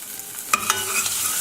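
Food sizzling in a pot for one-pot basil chicken pasta as a utensil stirs it, with a couple of brief scrapes over steady close frying hiss.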